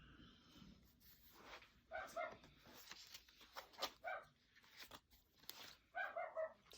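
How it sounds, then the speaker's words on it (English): Dogs bark in a few scattered bursts, heard faint and from a distance in a quiet room, with some soft rustling between the barks. "there go the dogs"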